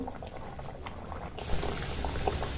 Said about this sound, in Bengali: তেলটা গরম হয়ে গেছে এবার আমি কচুরিগুলো দিয়ে দেবো